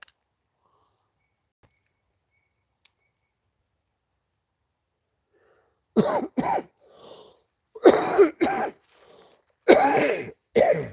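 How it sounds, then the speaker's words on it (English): After several seconds of near silence, a person coughs repeatedly up close in short harsh bursts, with a throat clear between them. "let's listen to first my coughing"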